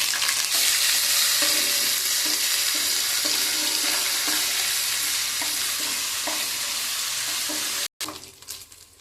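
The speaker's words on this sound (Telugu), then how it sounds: "అల్లం వెల్లుల్లి పేస్ట్ ఫ్రై అయ్యిందండి." Ginger garlic paste fries in a pan for a vegetable pulao, giving a continuous close sizzle with regular scraping stirs of a spoon, then a brief cut and a quieter stretch at the end.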